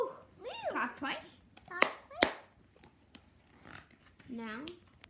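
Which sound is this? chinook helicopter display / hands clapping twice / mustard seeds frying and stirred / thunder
hands clapping twice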